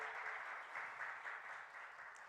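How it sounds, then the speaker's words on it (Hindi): Audience at the Jaipur Literature Festival applauds a playwright and poet being introduced, a sustained, even roar of clapping from a crowd, moderately loud and unbroken. "तालियां"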